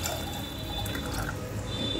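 Water pours steadily into a cooking pot for making daliya (broken wheat porridge), a continuous close splashing stream with no talk.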